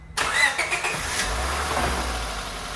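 A Honda Civic engine cranks briefly and catches after an automatic transmission install, then settles into a steady, close idle with a low rumble.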